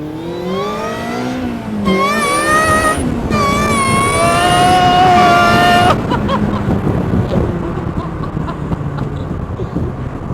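An Ariel Atom 3.5R track car's engine pulls hard through the gears, its rising whine climbing in pitch with a shift gap, then easing into a lower rumble with wind noise.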